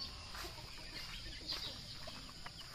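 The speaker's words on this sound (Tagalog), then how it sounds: "Gwapong manok." Chickens at a gamefowl breeding farm cluck faintly against a steady hiss of outdoor background noise, with short scattered calls and no talk.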